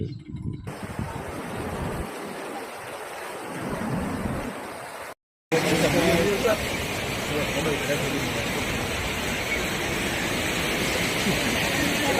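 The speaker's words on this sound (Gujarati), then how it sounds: "બહુ ભયાનક જળ પ્રવાહ ચાલી રહ્યો છે" Floodwaters of the Banas river, swollen by heavy upstream rain, roar in a loud, continuous rushing wash, broken once by a brief gap, with a voice faintly present beneath the torrent.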